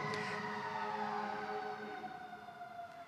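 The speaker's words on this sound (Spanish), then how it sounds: "todos los días hay un camión de bomberos pasando por acá por la puerta" A fire truck siren wails past a building's front door, a steady drawn-out tone that slowly falls in pitch and fades slightly as it moves away, heard alone without talk.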